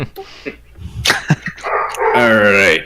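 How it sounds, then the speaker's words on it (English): Dogs bark and whimper in the background during a tabletop roleplaying session, with sharp yips and a drawn-out whine mixed with nearby talk. "Sorry if you guys can hear the dogs barking."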